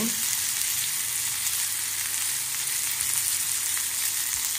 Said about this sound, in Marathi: हे सगळं मस्तपैकी भाजून घ्यायचं। छानपैकी तेल घातलं